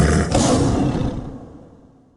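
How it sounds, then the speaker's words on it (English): An audible anti-homeless device under a city bridge gives off a loud, harsh, roaring noise that holds steady and then fades away, with no talk over it. "That is an audible anti-homeless device."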